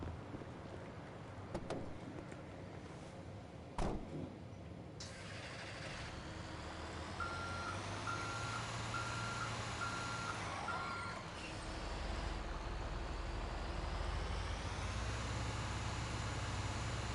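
A truck in the GTA V video game backing up, with a steady run of reversing beeps over a droning engine, a few sharp clunks early on and the engine revving louder toward the end.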